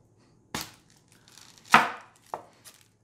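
A knife slices through an onion on a cutting board in three separate chops, the first two sharp and loud, the third shorter and lighter, with quiet gaps between.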